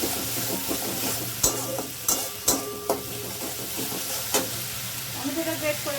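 Ginger frying in a pan while being stirred, a constant close sizzle punctuated by several sharp spatula knocks and scrapes against the metal, uneven in rhythm.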